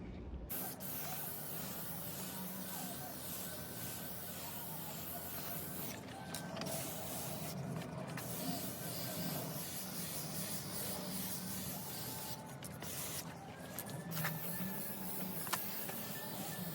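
Spray can hissing black paint in a steady, continuous stream onto Fiat Ducato marker light parts, close and fairly loud, with brief pauses between passes.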